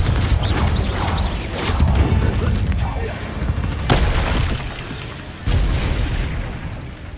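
Confringo blast curses explode in the Hogwarts Legacy video game, with loud booming blasts near the start and again around the middle and later, over rumbling game sound while a character shouts between them.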